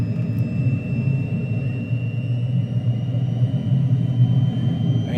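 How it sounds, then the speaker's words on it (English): De Havilland Goblin jet engine of a DH.100 Vampire in a flight simulator, a steady loud low rumble with a thin high whine, running continuously through the whole stretch. "I mean, the engine sounds there pretty good."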